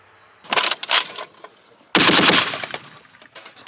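Two loud bursts of rapid machine gun fire from an armored MaxxPro vehicle's weapon, close by, the first short and choppy, the second a longer sustained rattle after a brief pause.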